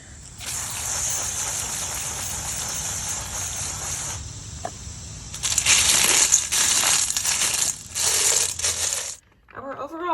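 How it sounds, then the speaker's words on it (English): Fused glass pieces are lifted off paper on a kiln shelf, with close crinkling, scraping and small glassy clinks running almost continuously, growing louder in the second half before a brief pause near the end. "I'm being very careful about taking these off of the kiln shelf because I want to reuse this paper as many times as possible."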